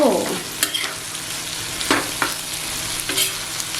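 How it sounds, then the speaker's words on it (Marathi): Small shrimp (jawla) sizzle frying in a pan with intermittent scraping strokes of a spatula stirring, close and steady, no talking. "परतवत राहायचं थोड्या थोड्या वेळाने हो"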